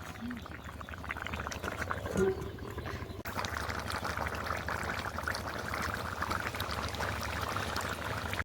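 Ground coriander and cumin mixed with water is poured from a bowl into a simmering curry of pumpkin, potato, peas and fish, a steady liquid splash and bubbling that grows fuller midway and carries on.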